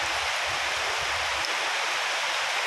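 Heavy evening monsoon rain pounds a metal sheet roof, a dense, continuous roar of drumming that stays steady and loud throughout the short stretch, with no speech.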